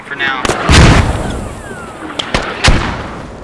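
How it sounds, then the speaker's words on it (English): Mortar fire hits in a tactical multiplayer shooter: a loud, close blast rolls into a rumbling tail, followed by a couple of sharp reports and another crack, all over a constant background roar. "We're taking counter mortar fire."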